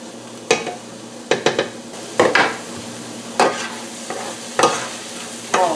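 Onions cooking in a pan with no oil, releasing their water: a soft steady sizzle broken by repeated scraping stirs of a utensil against the pan, close and alone.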